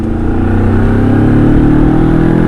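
A Moto Morini parallel-twin motorcycle, a nine-lakh off-road bike, runs loud and close with a smooth, steady engine drone that swells slightly as it revs, with no talking.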